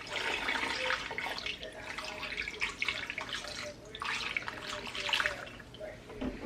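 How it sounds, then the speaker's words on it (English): Water pours steadily into a cooking pot outdoors, a continuous splashing rush with swells and dips in strength, close by and without talk. "now I'm going to pour some water in here"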